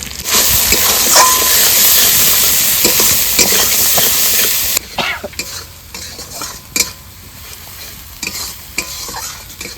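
Ground cumin, Kashmiri chili, turmeric and salt frying in a pan, with loud sizzling and busy stirring and scraping for about five seconds, then quieter intermittent stirring clinks as the hiss dies down.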